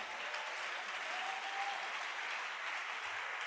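A church congregation at a Bible study applauds the Lord in steady, dense clapping that holds at an even level throughout, with no voices rising above it.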